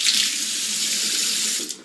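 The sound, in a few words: hot water running from tap while washing face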